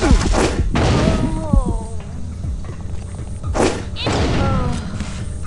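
Grenade explosions in the video game Deus Ex Invisible War: several heavy thuds and booms burst out in clusters, near and punchy, while someone talks over the action.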